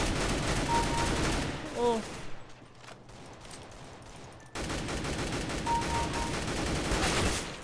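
Sprayed automatic gunfire in CS:GO, with loud bursts at the start and again toward the end and a quieter gap in between. A voice briefly exclaims.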